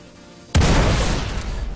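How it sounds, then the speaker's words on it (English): SAS-4 missile striking a Super Hornet spaceship in a space combat game: a loud, sudden explosive boom after half a second of quiet, then a long rumbling decay. "One SAS-4 missile on the way."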